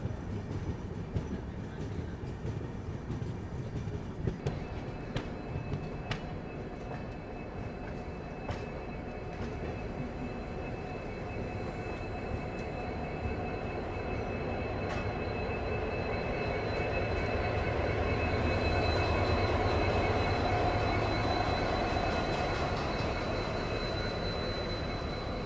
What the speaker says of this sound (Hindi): फिलहाल अपनी ट्रेन निशातपुरा केबिन को पार करते हुए भोपाल जंक्शन को स्किप करने वाली है।